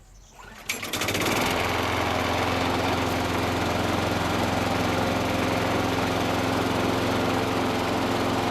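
A small aluminum-deck lawn mower with a 3.5 to 4 horsepower Briggs & Stratton engine catches almost immediately after a short pull and settles into a steady, loud, close-up running drone.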